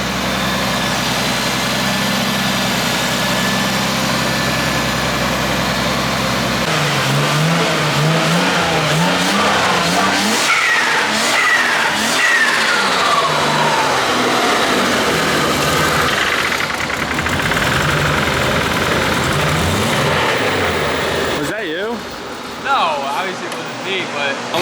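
A Nissan R33 with a swapped-in RB25DET engine runs loud and close: a steady idle first, then revving that rises and falls, with speech partly under the engine noise.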